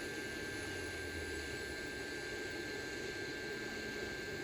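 A FNIRSI SAG-55 hot air rework station blows a steady, even hiss of air, constant and unbroken from start to finish, fairly quiet and close with no talking.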